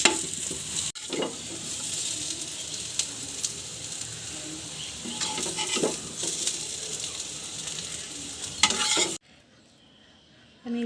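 Potatoes fry in a pan for a Bengali aloo bhaja, a continuous close hiss and crackle of sizzling oil with occasional stirring scrapes, then it cuts to near silence for the last stretch.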